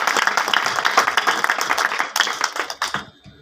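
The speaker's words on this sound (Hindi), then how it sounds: "तो एक बार राहुल के लिए आप तालियां बजा दें" A village crowd at an Ambedkar Jayanti gathering claps for Rahul, a close, lively burst of hand claps that swells, then thins to a few scattered claps and fades out near the end.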